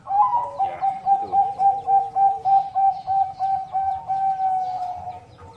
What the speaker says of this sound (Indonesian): Tuhan menciptakan burung perkutut dengan berbagai jenis.